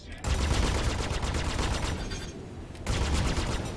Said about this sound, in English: they put the chain gun back on it